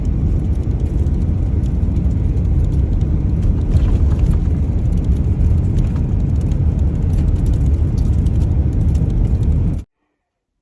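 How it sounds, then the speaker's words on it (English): Duct tape on a moving car's window flaps in the wind, a dense, rapid fluttering buzz over steady road and wind rumble, loud and constant before cutting out abruptly. "that's duct tape flapping in the wind"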